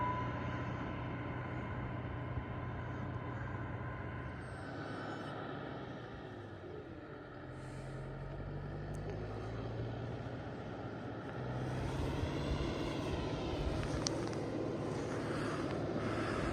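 A cold, not yet warmed-up MTZ tractor engine idles with a low rumbling drone, blowing black smoke, the pitch shifting slightly midway and growing a bit louder toward the end.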